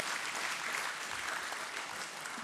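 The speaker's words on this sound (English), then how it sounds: "huge round of applause" Audience at a stock exchange listing ceremony at BSE in India claps steadily. The applause is even and sustained but fairly quiet, with no talking over it.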